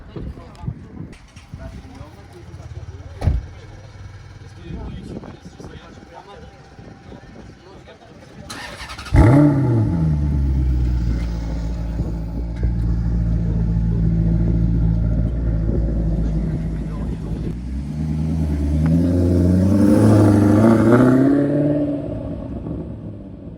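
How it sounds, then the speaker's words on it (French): A Maserati V8 fires up and pulls away at a Deauville car-spotting scene, its loud rising engine note holding strong and swelling again as it drives off after a few seconds of street ambience. "la petite Maserati qui est de retour, donc il va partir, on va entendre le V8"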